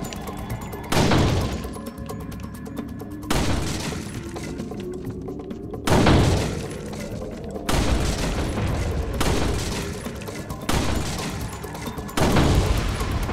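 Gunshots blasting shooting-gallery targets in the survival horror game Resident Evil 4, several loud sharp booms spaced a second or two apart, each followed by a ringing, shattering decay.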